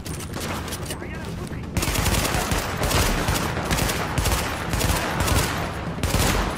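Submachine gun firing in Tom Clancy's The Division: loud, repeated bursts of rapid automatic fire that fill the whole stretch, layered over constant combat din.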